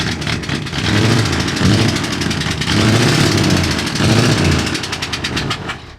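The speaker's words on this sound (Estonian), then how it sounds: "Tundub nagu mootor oleks katki läinud või midagi sellist." A broken truck engine runs loudly and unevenly, sputtering roughly, its revs surging and dropping in lumpy waves with a rattling, buzzing tone.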